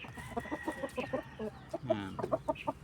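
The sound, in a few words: silky chicken hen clucking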